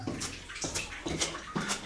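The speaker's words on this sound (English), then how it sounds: "But I heard running water" Running water inside an abandoned villa, a soft splashing trickle with repeated bursts like a tap or spout, fairly faint and close.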